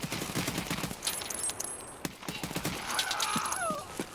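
Video game gunfire from a scav in Escape From Tarkov, a fast burst of shots landing in clusters over steady background game noise, loud and close.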